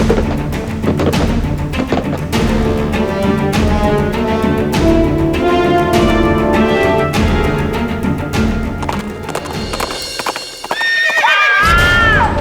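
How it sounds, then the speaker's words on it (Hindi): A horse moving through an old mansion, with steady clip-clopping hooves over a dramatic music score, then a loud whinny near the end. "हमने घोड़े के चलने की आवाज सुनी।"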